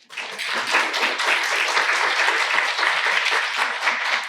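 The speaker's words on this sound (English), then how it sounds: "give a huge applause to your loved ones who are here with you today" Graduation ceremony audience applauding their loved ones, a dense, sustained wash of many hands clapping at once, swelling quickly and holding steady throughout, fairly near and full.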